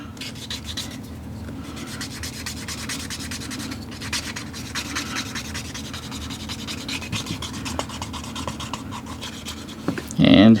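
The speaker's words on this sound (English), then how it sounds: "take our burnishing tool" A leather edge rubbed fast with a burnishing tool, a close, continuous, rapid scratchy friction with fine rhythmic strokes, then a short louder burst at the end.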